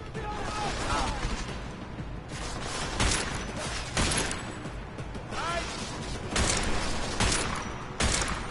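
Pistol fire in the video game Deus Ex: Mankind Divided, sharp shots repeating at roughly one-second intervals over a busy game soundscape, with a voice talking between them.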